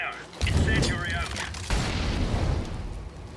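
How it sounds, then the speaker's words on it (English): An incendiary grenade goes off in CS:GO, giving a loud whooshing boom and then a roaring crackle of burning fire, with a second surge partway through, while a voice talks over it. "Throwing fire! Incendiary out!"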